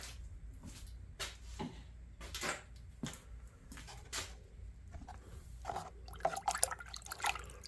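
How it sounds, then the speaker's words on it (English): Rusty Imperial Ireland stockman pocketknife part being rinsed in water, with intermittent splashes and drips in short bursts, busier trickling near the end, close and fairly quiet. "Let's just throw it in some water and rinse it off"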